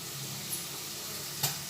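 Cashews and raisins frying in oil for fried rice, a steady soft sizzle with one or two brief clinks, close and even throughout.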